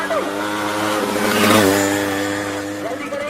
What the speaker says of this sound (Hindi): उसके अंदर चक्कर काटने वाली मोटरसाइकिल होती है।